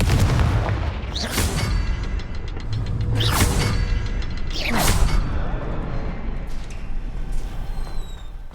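Confringo fire spell blasts in Hogwarts Legacy boom loudly, three or four times at regular intervals, each with a whooshing burst over a low rumbling backdrop.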